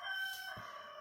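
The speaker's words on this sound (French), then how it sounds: "Le coq approuve." A rooster crows once, faint and somewhat distant, a short drawn-out call over quiet background.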